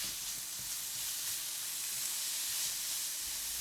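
Minced meat sizzling steadily in a hot wok while being stir-fried for kuey teow, a dense continuous hiss that holds level throughout with no talking.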